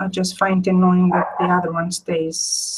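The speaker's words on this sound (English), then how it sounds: "I apologize for the dog, they're fighting." Dogs bark while fighting indoors, short sharp barks breaking in and out under a person talking close by.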